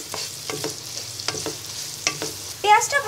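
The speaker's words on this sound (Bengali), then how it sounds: "এবার দিচ্ছি 2টি লং, 3টি এলাচ, 2 টুকরো দারচিনি এবং 2টি তেজপাতা। এবার কিছুক্ষণ ভেজে নিব।" Chopped onion fries in a pan with cloves, cardamom, cinnamon and bay leaves, giving a low steady sizzle under repeated stirring scrapes and clatters, close, with a brighter burst of frying near the end.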